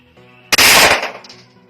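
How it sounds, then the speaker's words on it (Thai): One loud, close blank pistol shot, fired from a Kuzey 1911 or Glock 19 style blank gun with a Kuzey suppressor, bursts sharply and decays quickly over a soft background hum. "เดี๋ยวไปดูคลิปที่เรายิงกันเลยนะะ"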